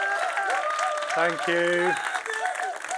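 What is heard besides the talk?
audience applause welcoming a speaker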